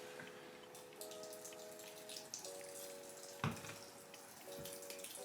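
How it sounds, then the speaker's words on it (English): Water is poured into the dry soil of a potted Epipremnum pinnatum Albo houseplant, a soft steady trickle and drip with a couple of brief knocks, close by and quiet, no talking. "so I am going to water this"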